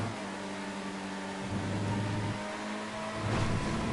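Race car engines in the DOS racing game Stunts, a thin synthetic engine drone stepping between pitch levels as the cars shift and rev, fairly quiet and steady.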